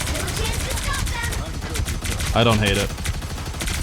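Punisher's ultimate turret in a video game fires steady rapid automatic rounds in a loud, unbroken rattle, with a voice speaking briefly over the shooting.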